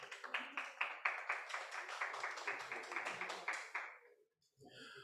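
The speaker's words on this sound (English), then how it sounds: "Clap him for me, please." An audience at a Patois debate claps together in a quick rhythmic burst of roughly a dozen even beats, moderately close, then the clapping breaks off into brief quiet.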